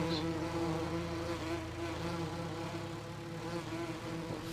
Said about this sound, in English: If you can hear me over the wasps, bees.